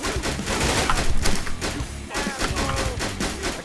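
Rapid gunfire from several weapons in GTA 5 during a police and army patrol shootout in Los Santos, dense overlapping cracks and thumps that come in uneven volleys, fairly close and loud throughout.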